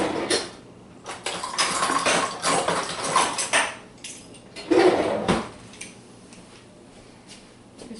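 Metal kitchen utensils clink and rattle as an old garlic press is rummaged for and lifted out, with a few sharp clatters, scraping shuffles and quieter pauses, close by.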